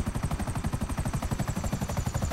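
Helicopter rotors chop in a fast, even pulse in GTA 5 Online, the beat close and steady throughout with no voices over it.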